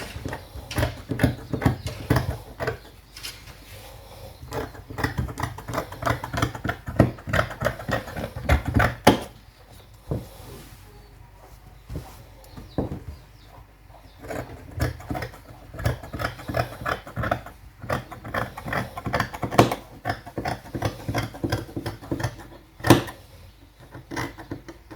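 Scissors cutting lining fabric for a structured sleeve, close crisp snips repeating in quick irregular runs with short pauses between them.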